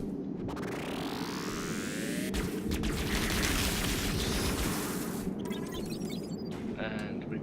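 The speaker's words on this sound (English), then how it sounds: "I'm going to run around and I'm going to shoot a couple of these little oozes." Shooting at small ooze creatures in the game FCE Bleeding Edge, heard as continuous loud game noise with dense rumbling bursts and a rising whine, a steady blaring mix throughout.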